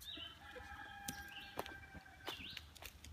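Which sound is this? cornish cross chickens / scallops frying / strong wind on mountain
cornish cross chickens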